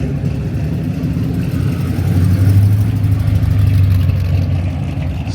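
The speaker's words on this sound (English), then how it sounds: "Here comes that Hot Rod Pinto" A hot-rodded Pinto rolls past at a car show, its engine a deep, throbbing rumble that swells louder midway and then eases off slightly.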